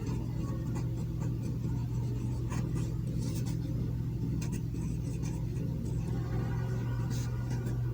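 Scratchy strokes from writing out an equation of motion, faint and intermittent, come over a steady low background hum.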